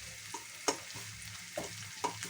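Ginger browning in a frying pan, a soft, low sizzle with a few distinct stirring knocks and scrapes spaced out over a couple of seconds, quiet and close, with no talk.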